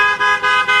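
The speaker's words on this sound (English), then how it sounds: "This means honk your horn on your car." Car horn honked by a passing driver on a residential street: three quick, loud, blaring honks in a close rhythmic series, alone without talking.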